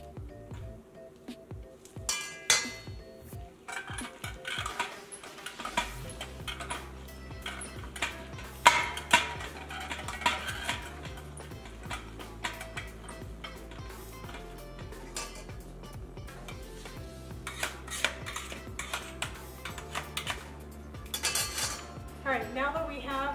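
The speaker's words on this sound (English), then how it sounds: "it just says to leave it on low while you're filling up your hot jars, which I am doing right now" Hot glass canning jars being filled with apple puree, with irregular clinks of glass and a ladle or spoon against pots, fairly quiet and close.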